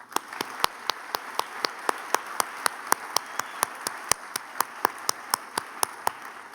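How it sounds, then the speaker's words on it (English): Sharp, evenly paced claps ring out close by over a softer bed of crowd clapping at a book festival keynote event, with no voices. "Please join me in giving a round of applause"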